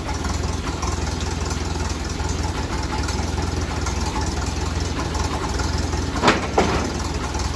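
A junkyard car engine idles with a steady, close rumble while being put in gear to free up stiff, tight wheels; two brief clunks or knocks cut through near the end.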